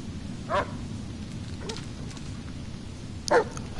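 A dog barks in the Blair Witch horror video game, two short barks spaced apart over a steady low ambient rumble of the forest, with a faint bark-like sound between them.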